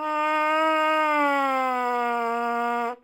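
A trumpet plays a siren exercise, one sustained, bright, harmonic-rich tone that slides gradually downward in pitch over about three seconds at steady loudness, alone with no talking, then stops abruptly.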